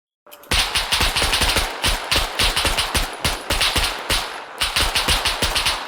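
Automatic gunfire in the zombie survival game SCUM, a fast steady rhythm of loud close shots in long continuous bursts, with a short pause before the final burst and no speech.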